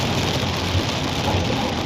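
Steady rain drums on a vehicle during a drive, a dense unbroken hiss with a low rumble beneath it, loud and close throughout.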